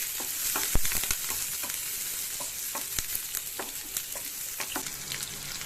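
Curry leaves and mint frying in a pan for coconut rice, a bright, steady sizzle broken by scattered clicks and scrapes of stirring.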